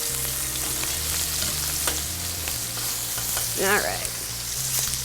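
Key West pink shrimp fry in a pan for paella with a steady sizzle, a brief clatter, and a short spoken remark over the cooking.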